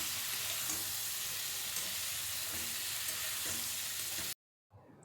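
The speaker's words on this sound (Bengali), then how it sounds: "এবার সেদ্ধ করা এঁচড়টা আমি মশলার সঙ্গে ভালোভাবে মিশিয়ে নিচ্ছি" Boiled green jackfruit being stirred into fried spice paste in a pan, a dense continuous sizzle with faint stirring underneath, stopping suddenly before a brief quiet tail.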